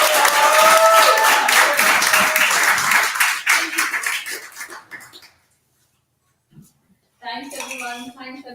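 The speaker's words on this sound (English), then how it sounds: "Let's have a warm, welcoming round of applause for Megha Sood." Audience applause at a poetry festival in New Jersey rings out as bright, dense clapping with some clinking tones, fading away midway, followed by silence and a brief burst of voices.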